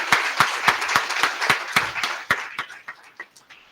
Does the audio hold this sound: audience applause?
yes